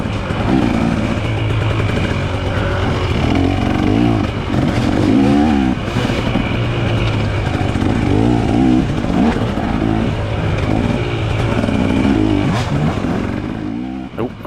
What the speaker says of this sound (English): Getting the rev bombs.